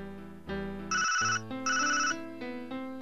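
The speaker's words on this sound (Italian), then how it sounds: "Oh, il telefono." A video game telephone rings with a bright electronic ringtone in two pulsing bursts over a sustained musical backing, clear and close, with no talk.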